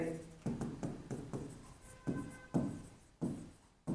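Chalk or marker strokes of a teacher writing a square-area formula on a classroom board, a series of short scratchy taps and swipes in irregular rhythm, close and fairly clear, no talking over them.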